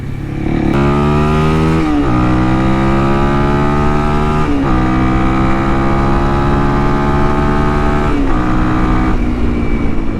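A Honda CRF 300L motorcycle with a tuned ECU revs loud and close, its engine note climbing through the gears with brief dips at each shift, steady and strong for the whole stretch, with no voices.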